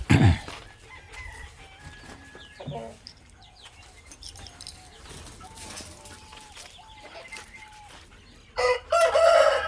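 Chickens on a farm cluck and crow near and far, a rooster calling out over scattered hen clucks and soft ambient noise, with a louder burst of crowing near the end.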